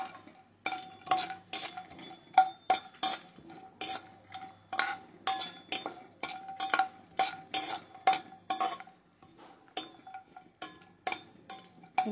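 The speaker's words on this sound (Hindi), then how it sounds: "हमारा घी गर्म हो रहा है, इसमें हम ड्राई फ्रूटों को तल लेंगे।" Chopped coconut, cashews and almonds cooking in hot ghee, heard as repeated clinks and scrapes of a metal spoon stirring against the pan, with a faint sizzle underneath and no speech.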